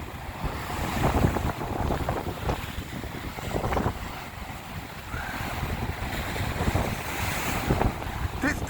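Strong wind buffets the microphone at Blackpool during a very high tide, with a steady roar of surf and breaking waves underneath, loud and continuous without any speech.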